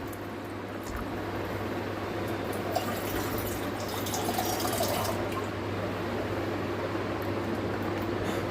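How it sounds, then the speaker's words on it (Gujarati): Water pours steadily into a pot of chickpeas for boiling, with a soft, continuous splashing rush, and no one speaks. "હવે આપણે એની અંદર પાણી રેડીશું બાફવા માટે."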